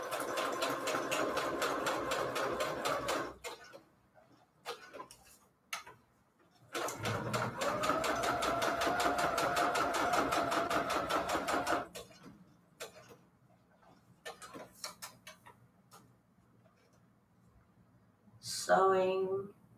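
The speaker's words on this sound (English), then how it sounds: "and then we're going to sew these two together." Sewing machine stitching two book pages together into a double pocket for a junk journal, running in fast rhythmic bursts separated by pauses, with a brief voice near the end.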